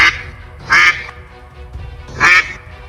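A mother duck quacking loudly, two strong nasal quacks about a second and a half apart, close and clear over a quiet background.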